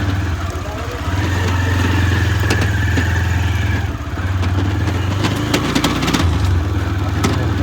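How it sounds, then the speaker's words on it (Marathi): A motorcycle engine runs steadily at close range during a ride toward Sinhagad Fort near Pune, its low, continuous drone holding throughout with a brief dip midway and some clatter on top. "पण गाडीचा भरपूर आवाज होतो"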